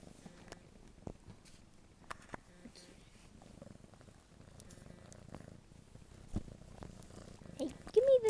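A house cat purrs softly and steadily up close, a low continuous rumble broken by scattered rustles and small bumps of handling, with a brief brighter vocal sound near the end.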